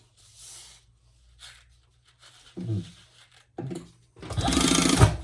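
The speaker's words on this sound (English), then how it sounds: "we're going to sew these 2 together, just like she tells you to in the pattern, with that seam allowance" A sewing machine stitches two card-slot pieces of a convertible phone pouch crossbody belt bag together along the seam allowance: soft faint rustles at first, then one loud, close, buzzing burst of stitching near the end.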